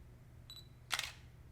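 Canon EOS Rebel SL1 DSLR shutter taking a photo, a soft mechanical beep followed by one crisp, close shutter click in a quiet room.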